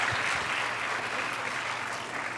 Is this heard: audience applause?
yes